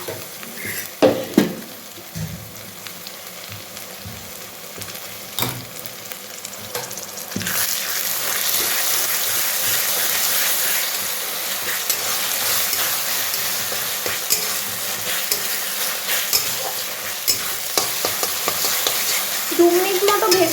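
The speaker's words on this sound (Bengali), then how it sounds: "2 মিনিট মতো ভেজে নেব, যেন কাঁচা স্মেলটা চলে যায়।" Onion with ginger, garlic and chili paste frying in a pan: a steady, loud sizzle fills the clip after a few sharp stirring scrapes at the start, with occasional utensil knocks against the pan.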